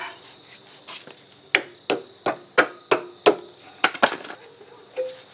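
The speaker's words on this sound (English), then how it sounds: "use a bigger hammer" During a tow bar receiver hitch install on a 2004 Volvo XC70, a hammer strikes metal about a dozen times in a steady rhythm, each sharp, close blow ringing briefly.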